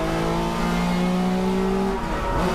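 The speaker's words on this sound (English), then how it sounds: "Coming out of the final corner and accelerating up the start-finish straightaway." 1968 Porsche 911 T/R race car accelerating out of the final corner up the start-finish straight, its engine loud and steady with a rising tone that shifts near the end.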